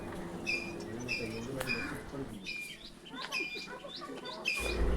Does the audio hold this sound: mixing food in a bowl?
no